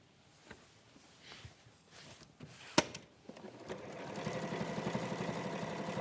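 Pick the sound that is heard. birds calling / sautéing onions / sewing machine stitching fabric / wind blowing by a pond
sewing machine stitching fabric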